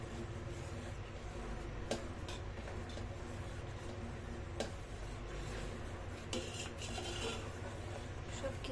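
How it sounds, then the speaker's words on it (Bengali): Milk tea boiling in a pot gives a steady, low bubbling hiss with scattered light clicks and pops, close and fairly quiet, with no talking. "একদম টকবক টকবক করে ফুটতেছে"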